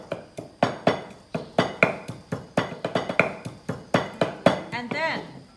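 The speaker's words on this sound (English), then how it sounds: "And then we smash the garlic first to bring out the flavor." Garlic smashed with a pestle in a mortar for Thai papaya salad at a cooking class: a steady series of sharp, close pounding thuds, about three per second.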